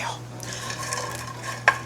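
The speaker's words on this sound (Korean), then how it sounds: "마른 팬에 건멸치와 두절새우 모두 넣어주시고요" Dried anchovies and head-off shrimp tossed in a dry, oil-free pan over medium heat, giving a soft continuous stirring rustle with a faint sizzle and one sharp clink of utensil on pan near the end.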